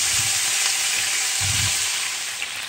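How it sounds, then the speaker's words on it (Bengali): Chunky cut cauliflower pieces and potatoes frying in hot oil in a pan, a steady loud close sizzle throughout with a couple of soft stirring bumps, no talking. "এই যে ফুলকপিগুলা আমি এরকম একটু মুটকা মুটকা করে কেটে নিছি, এগুলা এখন ফ্রাই করে নিব আলুর সাথে।"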